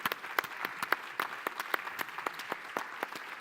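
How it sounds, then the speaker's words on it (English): A small plenary session audience gives a round of applause to two moderators at a Baltic Sea region summit: scattered, distinct handclaps, fairly faint and uneven, lasting a few seconds. "shouldn't we give them a round of applause for 2 moderators?"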